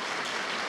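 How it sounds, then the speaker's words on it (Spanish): Audience applause at an evening tribute gathering comes as a brief, dense wash of clapping, steady and moderately distant. "Démosle un aplauso grande a Juan Carlos"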